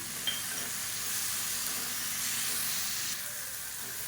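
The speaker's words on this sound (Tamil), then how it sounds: "இப்போ இதையும் சேர்த்து நல்லா வதக்கிக்கலாம்" Tomato, onion and roasted peanuts sautéing in a pan for chutney: a steady, close sizzle with soft hissing and faint stirring, no talk.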